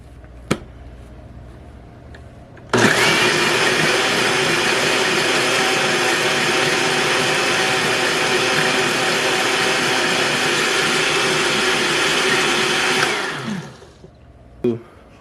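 Blender grinding a banana smoothie, a loud steady motor roar that starts abruptly and runs about ten seconds before winding down, with a couple of small knocks before and after.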